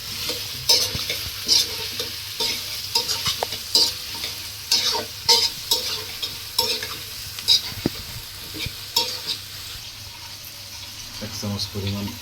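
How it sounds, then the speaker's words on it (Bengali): Onions frying in a pan while being stirred often, a near, steady sizzle broken by repeated scraping strokes of the spoon. "পেঁয়াজ দেওয়ার পরে একটু নাড়া দিয়ে নেবেন, পেঁয়াজটা পুড়ে না যায়,"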